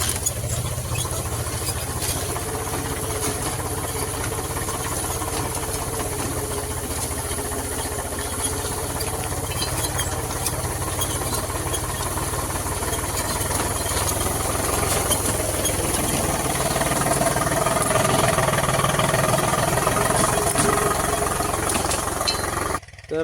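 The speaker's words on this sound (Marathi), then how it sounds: "ट्रॅक्टर मस्त चालू पेरणं" A tractor runs while sowing wheat in a field, its engine droning steadily and loudly from close by with a rough mechanical rattle that swells slightly in the final seconds.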